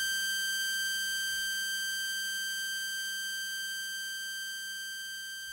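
A single steady synthesizer tone held with a long decay envelope, a pure, bright sustained pitch slowly fading in level over several seconds, heard alone.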